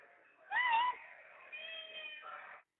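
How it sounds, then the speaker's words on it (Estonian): A cat meowing in the background of a prison phone call, two drawn-out, slightly strained meows heard faintly over a thin, band-limited phone line. "Ma kuulsin kassi."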